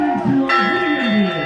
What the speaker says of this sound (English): The ringing of the victory bell at the end of a successful conquest